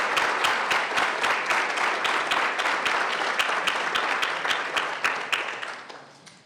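An audience at a candidate forum applauds to welcome two candidates, a dense sustained wash of clapping that holds steady and then fades out toward the end.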